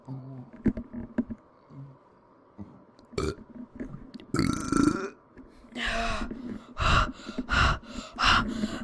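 Long drawn-out burps made in a home bathtub, several deep rumbling eructations, the later ones stretched out and loud, close to the listener, with gasps and breathing between them.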